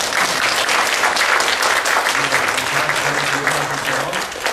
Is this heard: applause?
yes